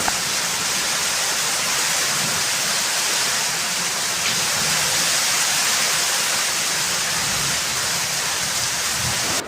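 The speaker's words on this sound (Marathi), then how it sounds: "भरपूर प्रमाणात पाऊस पडला होता" Heavy rain pours down steadily on a sheet-metal roof in a dense, hissing wash, loud and unbroken from start to finish.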